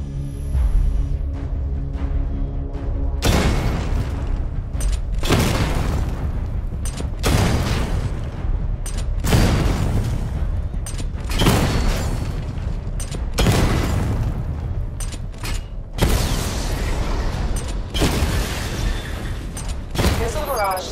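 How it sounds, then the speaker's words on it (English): Missile barrage explosions in Batman: Arkham Knight, a rapid series of loud, heavy booms roughly every two seconds, each blast rolling into the next over a continuous rumble. "Destroy targets to charge up weapon energy and activate missile barrage"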